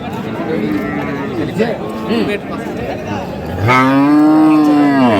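A farm-raised bull at the Ambari cattle market near Mymensingh lets out one loud, drawn-out moo close by, after a stretch of crowd chatter and people talking.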